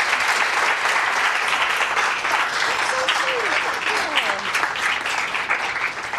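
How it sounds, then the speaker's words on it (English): At an International Women's Day celebration, the audience applauds for Councilmember Gonzalez, a loud, continuous wash of many hands clapping with faint voices murmuring underneath. "let's give a round of applause to Councilmember Gonzalez"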